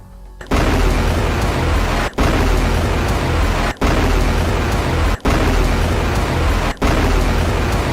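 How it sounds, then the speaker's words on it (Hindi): Hezbollah rocket salvo fired at an Israeli military base: a string of five loud, roaring blasts, each lasting over a second, follow in quick regular succession with barely any gap between them. "इसके बाद मिशहर बेस पर रॉकेटों का जत्था फायर किया गया"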